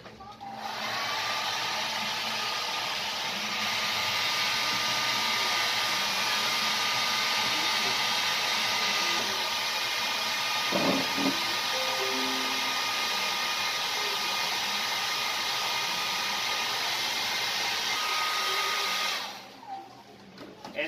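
A hair dryer blows steadily at close range over a covered screen-printing screen for a long stretch, with a brief clatter midway before the motor winds down and stops.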